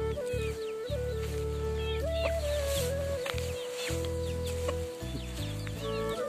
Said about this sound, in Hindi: यहाँ देखिए मुर्गियाँ, मुर्गियाँ देखिए